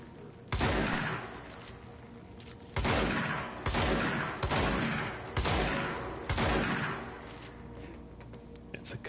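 Gunfire and explosions from the video game Control: several heavy booming blasts spaced a second or two apart, each with a long rumbling tail, loud and close with no talking.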